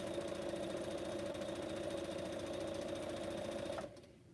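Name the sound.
sewing machine stitching quilt blocks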